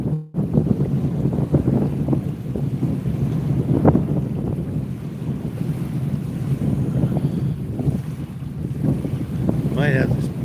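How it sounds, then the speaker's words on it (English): Strong wind buffets the microphone on a blustery day at the water's edge while fishing at Haystack, a steady roaring rush with surf underneath and a brief voice near the end. "You guys ain't gonna be able to hear me if nothing but the wind blowing."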